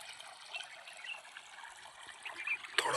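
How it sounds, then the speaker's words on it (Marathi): Water running steadily onto a patch of grass grown as fodder for goats, a soft continuous trickle heard from close by, with a brief louder splash near the end. "घासाला पाणी देणं चालू आहे."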